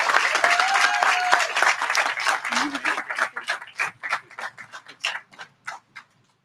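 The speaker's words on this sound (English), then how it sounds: "Let's have a round of applause for the 2021 Family Medicine residents." Applause from the audience at a 2021 family medicine residency graduation ceremony starts full and steady, then thins into scattered, individual claps that fade out near the end.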